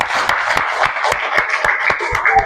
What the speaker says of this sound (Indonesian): kasih tepuk tangan semua